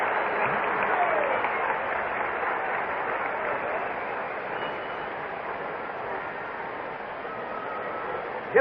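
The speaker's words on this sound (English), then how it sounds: "Listen to the reaction from the crowd as Bob Gibson comes up" Crowd at Busch Stadium in St. Louis during Game 1 of the 1968 World Series, Tigers against the Cardinals, reacting as pitcher Bob Gibson comes to bat: a sustained, distant roar of cheering and applause filling the ballpark with steady noise.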